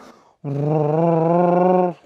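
A voice mimics a car engine with one sustained, buzzing drone that holds steady for over a second before cutting off, loud and close.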